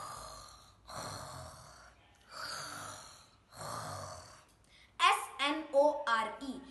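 A person imitates snoring with four slow, rhythmic rasping breaths, evenly spaced and close. Spoken words follow at the end.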